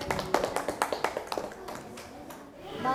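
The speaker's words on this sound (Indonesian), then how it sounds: "Bagus, tepuk tangan ya." Schoolchildren in an elementary classroom clap their hands together in a quick, fairly rhythmic burst of sharp claps that loosens and fades after about two seconds, with faint voices in the background.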